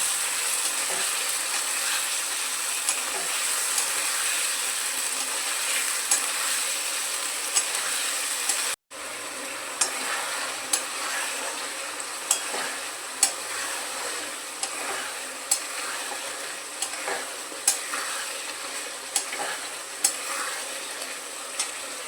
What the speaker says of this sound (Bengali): মশলার পেস্টটা দিয়ে ভালো করে কষিয়ে নেব।